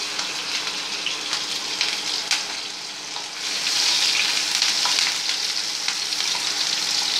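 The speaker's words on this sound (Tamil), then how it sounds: "நம்ம கருவேப்பிலை போட்டுக்கணும். வெங்காயம் கொஞ்சம் வதங்க." Onion and curry leaves fry in oil for hotel-style tiffin sambar, giving a continuous close hiss and sizzle that swells louder partway through, with no voices.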